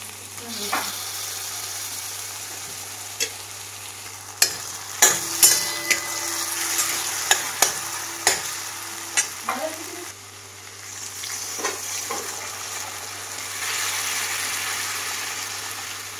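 Chopped tomatoes hit hot tempering oil for a pan of toor dal, setting off a loud, steady sizzle and crackle with sharp spatter bursts and occasional stirring clinks, close up and alone.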